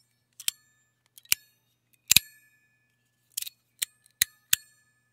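A Sound Emperor tuning fork fidget slider gives about eight sharp metallic clicks and snaps, spaced irregularly with silence between, some leaving a brief bright ringing tail.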